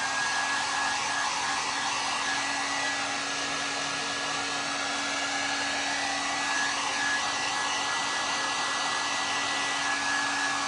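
A hair dryer blows steadily on a floral arrangement set on a large glass frame, giving a constant loud whooshing drone with a fixed whine, running alone with no talk.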